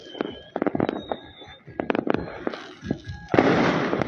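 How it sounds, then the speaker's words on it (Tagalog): Firecrackers and fireworks go off at a Chinese New Year celebration, a rapid string of sharp bangs and pops growing into a dense crackling burst near the end, with a few voices faintly underneath. "Lakas yung putukan doon sa side."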